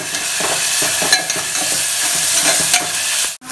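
A ginger, garlic and coriander paste sizzles and fries steadily in a pan for masale bhat, loud and close, with spatula scrapes and stirring clicks throughout and a brief drop near the end.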